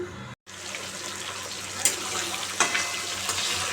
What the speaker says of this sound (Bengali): চলো বসিয়ে দিই মাছ ভাজাটা তেলটা কখন গরম হোক একটু